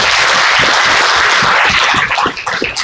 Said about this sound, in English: so we can give them a round of applause as well.